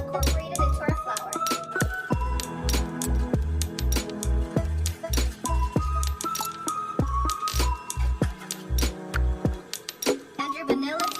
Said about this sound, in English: now we're just going to mix until our butter is well incorporated into our flour